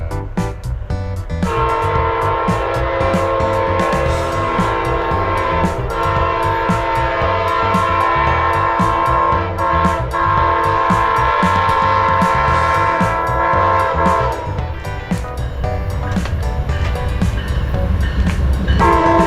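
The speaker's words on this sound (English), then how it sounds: "'97 Silver Meteor arriving in Sebring." Amtrak Silver Meteor led by a Genesis P-42 locomotive arriving at Sebring, Florida, with a loud sustained horn chord blaring over rumbling wheels and rhythmic rail clicks, the engine roar swelling near the end.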